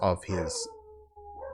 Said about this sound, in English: My dog's going off at something, so I'll try to talk over it